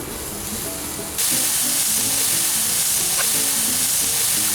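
Steady, dense sizzling hiss of tangy BBQ chicken cooking on a hot grill, loud and close, crackling continuously throughout with no voices.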